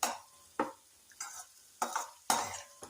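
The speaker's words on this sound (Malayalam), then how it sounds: "ചാറാക്കാതെ നമ്മൾ ഉള്ളിയും മുളകും കൂടെ ഇതിൽ വെന്ത് കിട്ടും. എണ്ണയിൽ നന്നായിട്ട് വാടിക്കിട്ടും." Onions and chillies frying in oil in a pan for a dried bean stir-fry, heard as five separate scraping stirs of a spoon against the pan over a soft, quiet sizzle.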